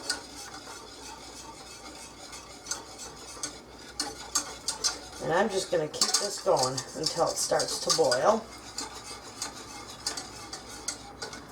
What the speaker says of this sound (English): But you want to stir it constantly, otherwise you will burn the whole shebang